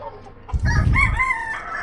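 A broodcock rooster kept in a Philippine backyard for breeding gives one loud, close crow of about a second, with other backyard chickens clucking faintly nearby.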